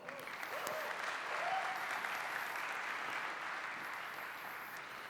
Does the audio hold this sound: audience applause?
yes